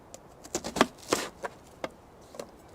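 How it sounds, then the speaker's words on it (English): A knife dices an onion to a medium dice outdoors, irregular crisp chopping taps against a board, close and fairly loud, with no talking. "We're going for about a medium dice on this onion."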